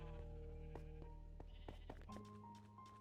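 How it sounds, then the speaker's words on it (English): Sheep bleat in the Minecraft video game, with several short, quiet, wavering cries spaced across a few seconds. "I've got a couple of pink sheep, so I'm trying to breed those in particular"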